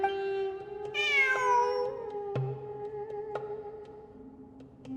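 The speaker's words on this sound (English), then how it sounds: "I'm not hearing things. It really is a cat." A cat meows several times in the Genshin Impact video game, with one long rising-and-falling call standing out over a steady tonal music bed and a few short chime-like hits.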